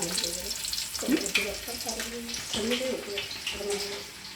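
Crushed garlic sizzles and crackles in hot oil, a steady frying hiss close by, while a person talks over it.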